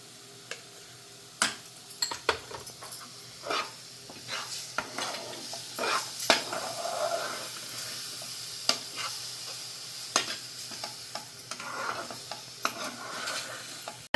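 Mango juice being stirred into semolina sheera in a pan, with repeated scraping and clinking strokes and a soft wet sizzle over a steady background hiss, no talking.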